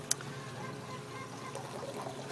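A bell siphon in an aquaponics grow bed draining water rapidly, a steady close trickling, gurgling flow with a small click at the start and no talk.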